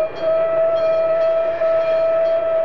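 A St. Nicholas special train runs on the line to Oslavany, heard as a steady, loud rolling rumble with a constant tone held throughout, with no talk.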